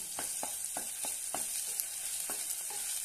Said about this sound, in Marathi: आता यामध्ये अर्धा चमच आलं लसणाची पेस्ट घालूया। छानपैकी परतून घेऊया।